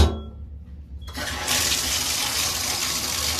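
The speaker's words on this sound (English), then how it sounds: "then turn this water on, y'all, and we're gonna take us a bath" Tap water gushes into a bathtub, a steady loud rushing that starts after a quiet moment and then continues unbroken, with no talking.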